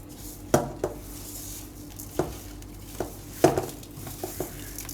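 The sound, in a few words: stirring mashed potato mixture with bread crumbs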